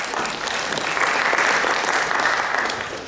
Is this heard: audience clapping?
yes